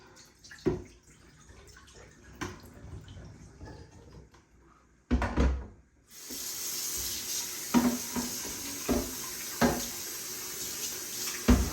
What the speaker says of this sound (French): mettez la brosse en mode nettoyage avant de vider le réservoir d'eau sale bien sûr